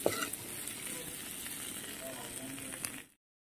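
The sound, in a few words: onion, ginger and garlic frying in a pan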